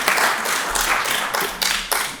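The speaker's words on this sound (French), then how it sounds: "on applaudit Olivier pour cette prêtée au jeu" Audience applause for a participant at a talk on clinical digital simulation and generative AI: dense, steady clapping throughout, with a few louder bursts near the end and no voices.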